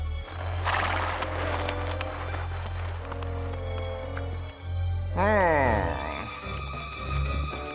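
A galloping horse with rhythmic hoofbeats and a whinny, heard over a musical score in a dry-weather outback setting, steady and fairly loud.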